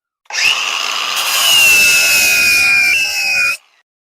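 An angle grinder fitted with a 40 grit flap disc grinds away material in one loud, sustained, high-pitched rasp lasting about three seconds before cutting off abruptly.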